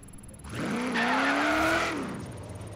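A car in the video game Forza Horizon 3 skids with a sustained tire squeal over the engine, rising and then fading out after a couple of seconds, with no talking.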